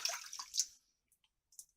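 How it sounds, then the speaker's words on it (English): Water splashing from cupped hands while wetting the face between shaving passes with a pure badger brush, a short close burst of splashes followed by a few faint drips. "Let me wet my face."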